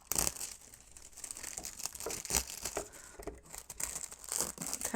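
Excess mylar tearing away from freestanding machine embroidery for Christmas tree tealight covers, a run of crisp crinkling rips and rustles in irregular bursts, close and fairly loud with no speech.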